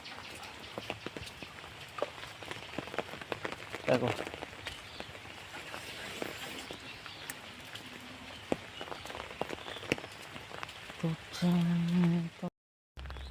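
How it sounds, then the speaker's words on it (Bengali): Rain falling outdoors on a muddy village path beside rice paddy fields, soft steady patter with scattered close drops, as someone speaks briefly over it. "বৃষ্টি হচ্ছে।"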